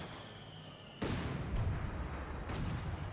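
British artillery shells from a World War I shooter game land in two loud booming impacts, the first about a second in and the second shortly before the end, over low rumbling background noise.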